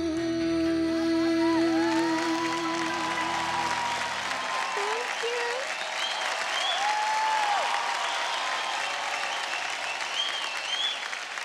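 A studio audience on a televised singing competition applauds after a soulful song rendition, dense sustained clapping over the song's fading final notes, with a voice briefly speaking near the start.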